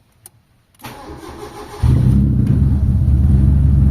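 A car engine with a weak battery cranks briefly, then catches and settles into a loud, steady idle that runs to the end.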